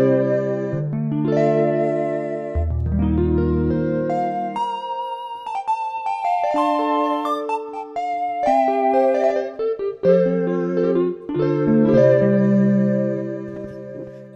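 A synthesized instrument in Vital built from an additive synthesis wavetable with added effects, playing a continuous melodic line of bright, harmonically rich sustained tones with a slight shimmer, loud and with no voices.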